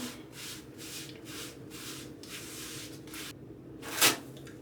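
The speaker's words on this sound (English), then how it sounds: "And then I take my wax strip, put it on there." A wax strip is pressed and rubbed onto skin with repeated soft, scratchy strokes, close and steady, then ripped off in one sharp, bright tearing burst near the end.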